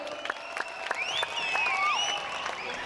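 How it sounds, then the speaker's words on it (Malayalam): Applause at a Mappilappattu stage show for drummer Dr. Dani, a private hospital doctor from Ernakulam. Clapping rises over a sustained tone with a sliding note, and individual claps stand out in a moderately loud crowd. "ഡോക്ടർ ഡാനിക്ക് നല്ലൊരു കൈയടി കൊടുക്കുക"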